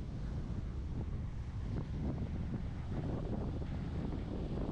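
Wind-driven ocean waves breaking along the Fuerteventura shore in the Canary Islands, a steady loud broadband roar with gusts buffeting the microphone throughout and no speech.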